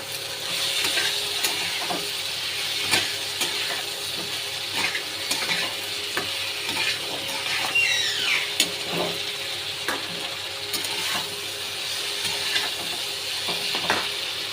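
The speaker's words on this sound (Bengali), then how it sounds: "পটল আর কাঁচা লঙ্কা একটু ভালো করে নেড়ে নেব" Pointed gourd and green chillies frying in oil in a pan, stirred repeatedly: a constant close sizzle with rhythmic scraping and clinks of the utensil against the pan, no talking.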